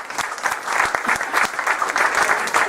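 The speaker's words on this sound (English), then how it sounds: "I'm surprised I got that round of applause." A crowd at a political event in Sandwich, Massachusetts gives a sustained round of dense applause, close and lively, with no speech over it.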